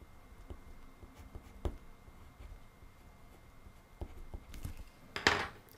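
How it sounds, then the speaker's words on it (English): Faint, soft scratching of a pencil on paper in short strokes, close and quiet, with a sharper brief scrape near the end. "let me just go over that with pencil quickly"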